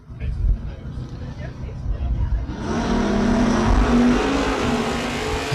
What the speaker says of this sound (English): Firebird trying to catch the Camaro.